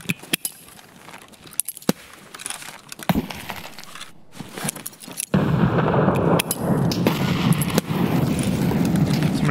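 Grenades detonate in the shooter game Escape from Tarkov: scattered sharp cracks and clinks build to a heavy blast that leaves a loud, sustained roar of debris and rumble through the rest of the stretch, with no voices.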